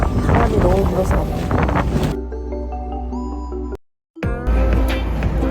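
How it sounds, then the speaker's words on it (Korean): Strong wind blasts across a seaside campsite on Jeju Island, a loud rushing roar buffeting the microphone, broken by a quieter stretch with steady tones and a brief dropout before the gusts return. "바람이 너무 불어서."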